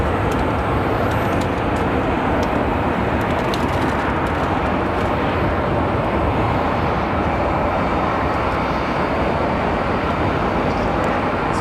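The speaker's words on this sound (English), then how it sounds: "it's actually American Airlines 1521 coming in from Madison" An American Airlines jet arriving from Madison at Phoenix Sky Harbor Airport makes a steady, loud broadband roar that holds evenly throughout, with no talking.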